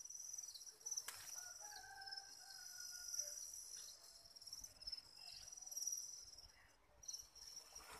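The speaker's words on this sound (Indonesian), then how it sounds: "Nih guys, ternak jangkrik." Crickets at an Indonesian cricket farm chirp steadily in a high, continuous trill, with fainter bird calls and a distant rooster drifting in behind.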